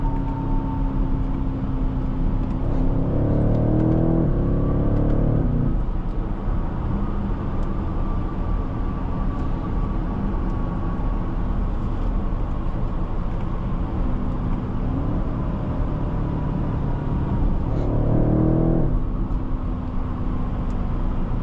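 A 2022 BMW X6 M50i pulls hard from inside the cabin, a steady low engine roar with two bursts of rising revs as it accelerates and shifts, heard continuously throughout.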